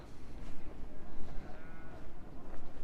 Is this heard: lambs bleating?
yes